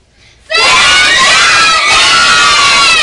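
A large audience of children at a book awards event suddenly erupts into loud, sustained screaming and cheering that stays at full intensity until the end.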